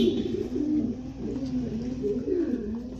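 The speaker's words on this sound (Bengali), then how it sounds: "এই যে কবুতর গোসল করতেছে" Female pigeons bathing in water, cooing in repeated low throaty rolls close by, with soft splashy background noise and no speech.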